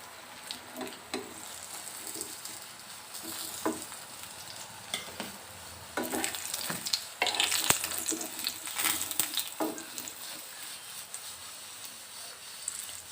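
Eggplant slices frying in a pan, with a continuous sizzle broken by clattering scrapes and knocks as the pieces are moved, growing busier toward the middle.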